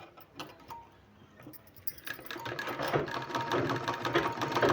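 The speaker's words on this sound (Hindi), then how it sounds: "यहाँ सिलाई लगा देना है" A sewing machine stitches a folded palazzo pant design, starting with a few quiet mechanical clicks and then running into a rapid, loud whirring stitch that builds toward the end, close by with no talking.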